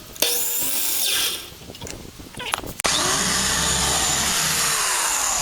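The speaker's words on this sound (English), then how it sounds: "this is a yard sale drill, by the way" A secondhand yard sale drill whirs steadily for several seconds, loud and close, after some earlier clatter and a brief pause, during a garden tub rip-out.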